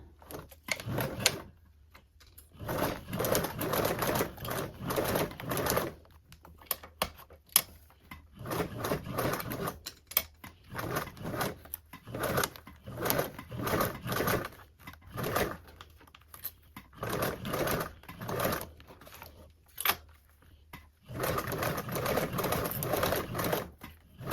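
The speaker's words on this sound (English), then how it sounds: "Now I'm going to sew with a 1/4 seam allowance and sew on my binding" A home sewing machine stitches binding onto a toiletry bag at a quarter-inch seam allowance, running in repeated bursts of close, steady whirring separated by short pauses.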